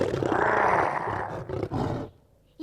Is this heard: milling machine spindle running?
no